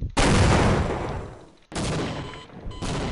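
Two loud, close sniper rifle shots in the video game Half-Life, each a sharp blast with a long decaying tail, the second following about one and a half seconds after the first.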